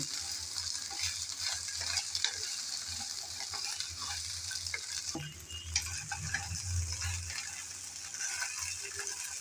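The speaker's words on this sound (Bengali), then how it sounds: "খুবই সামান্য পরিমাণ তেল দিয়ে এই ঢেঁড়স কালো জিরার সাথে ভেজে নিচ্ছি।" Okra frying with nigella seeds in a little oil, a continuous close sizzle with occasional stirring scrapes and light spatter, no one speaking.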